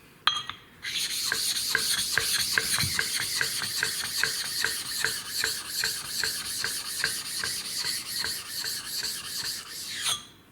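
Sharpening stone being flattened on a diamond plate at a woodworking bench, a steady back-and-forth abrasive rasping in rhythmic strokes for about ten seconds, close and alone.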